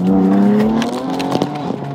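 A BMW M4 in M1 mode accelerates hard, its engine note climbing steadily while traction control cuts in, breaking the pull with brief stutters and a chirp of tyre noise, loud and close.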